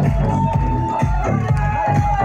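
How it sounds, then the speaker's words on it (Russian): Outdoor crowd at a night bicycle festival in Kazan clapping and cheering for a winner, loud rhythmic applause with whoops and babble, beats pulsing about twice a second, with music-like tones underneath. "Дайте аплодисменты все вместе, Казань!"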